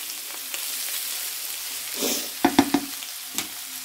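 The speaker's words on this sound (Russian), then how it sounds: "Мяско мое уже конкретно зажаривается" Beef for stroganoff frying in a pan: a soft sizzle underneath, then a quick cluster of three or four sharp spatula scrapes and knocks, close up with no voices.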